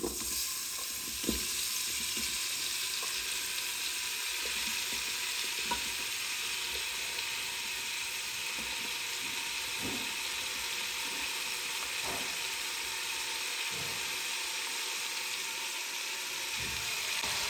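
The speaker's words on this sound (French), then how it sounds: "une fois que votre huile d'olive a un peu chauffé, venez mettre vos légumes" Vegetables fry in heated olive oil inside a Cookeo multicooker, a steady soft sizzle running throughout with occasional faint clicks and scrapes of stirring, close and fairly quiet.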